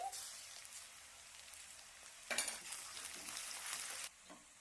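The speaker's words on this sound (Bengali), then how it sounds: "পেঁয়াজ কুচিটাকে ভেজে নিতে হবে একটু হালকা ভাজা হয়েছে এখন আমি আদা রসুন বাটা দিচ্ছি" Chopped onions fry in a pan with ginger garlic paste, a soft steady sizzle with brief louder bursts of crackling and stirring midway, close and fairly quiet.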